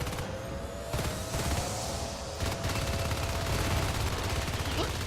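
Shotgun fire in the sci-fi shooter Natural Selection 2 during a competitive match, a rapid volley of sharp gunshots and booms over continuous battle noise, with a faint electronic tone beneath.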